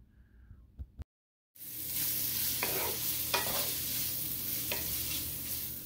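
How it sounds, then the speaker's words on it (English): Smoked beef sausage frying in a pan gives a steady close sizzle, after a few soft knocks and a short silence, with three distinct scraping stirs breaking through the hiss. "I'm going to add in my smoked beef sausage, and I'm going to cook these until they are fully cooked."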